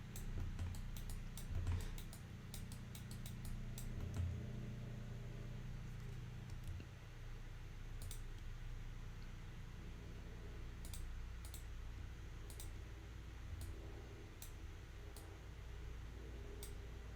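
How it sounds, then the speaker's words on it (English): A computer mouse clicks while someone models in Maya, retopologizing a mesh with the Quad Draw tool, giving sparse, sharp, faint clicks, some in quick pairs, over a quiet background hum with no talking. "I'm just doing normal clicks, adding a vertex, holding shift"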